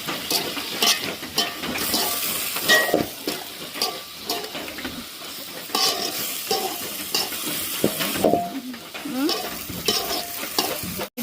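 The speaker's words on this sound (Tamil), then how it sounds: "எல்லாம் போட்டு வதக்க விடுவோம்." Tomatoes and onions sautéing in a pan for prawn sothi, a steady sizzle and frying crackle with stirring scrapes and clinks of a utensil throughout, close and fairly loud, no talking.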